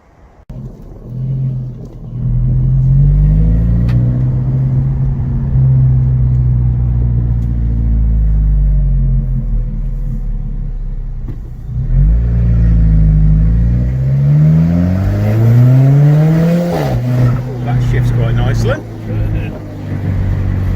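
Alfa Romeo 4C sports car, a light 800 kg machine, pulling away and accelerating hard through several gears, its engine note rising and falling loudly up close with voices talking over the drone.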